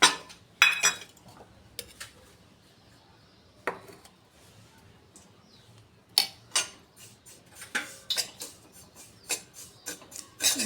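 Semolina roasting in ghee in a pan, stirred with a spoon: sparse metallic scrapes and clinks against the pan at irregular intervals, clustering more densely toward the end, close and fairly quiet with no talking.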